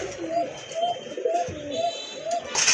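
Pigeons in a seller's collection, including a pair of crested seven-eyed birds, give a steady series of soft, low rolling coos at close range, repeating roughly every half second with faint background noise.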